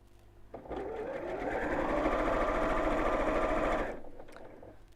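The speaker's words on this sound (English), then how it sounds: "So again, just sewing along that first crease, you can see there now." Sewing machine stitching bias binding along a crease, a steady motor whir that builds over about three seconds of continuous sewing, then stops.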